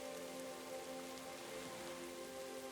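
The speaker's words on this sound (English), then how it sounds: "The sound of raindrops hitting the surface of the rock pools" Raindrops fall on the rock pools at Portacloy Beach, a soft, even patter of rain spread across the surface, faint and constant throughout with no talking.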